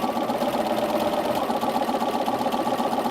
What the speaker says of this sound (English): lining up our 1/4 inch seam, and we begin to sew